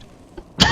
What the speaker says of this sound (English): Still got the chronic cough.